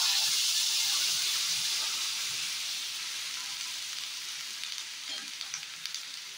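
Vegetable curry with fish sizzling steadily in a pan just after water is added, a continuous close hiss that eases slowly and is broken by a few faint stirring knocks near the end.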